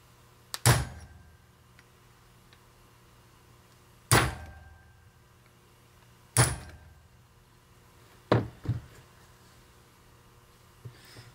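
Metal hammer blows strike a rivet on a Ford tractor leveling box, five sharp, ringing hits spaced a few seconds apart with a quick double strike near the end, close and loud in a quiet shop.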